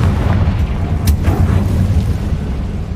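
A Confringo fire spell goes off in the Hogwarts Legacy video game as a loud, sustained low booming roar that rumbles steadily through the whole moment, with one faint crackle near the middle.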